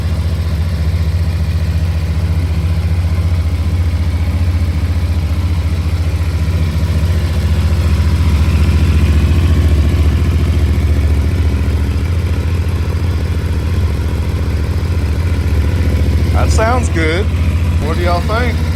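A 2024 CFMOTO NK motorcycle engine, freshly fueled, runs at a steady, loud idle with a continuous low rumble, while voices talk over it near the end.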